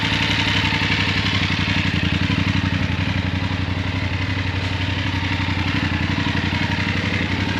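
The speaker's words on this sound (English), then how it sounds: "good nice throaty sound to it." Close by, a BMW F850GS motorcycle sits idling, its engine pulsing in an even, rapid throaty beat with faint clatter, steady and alone without speech.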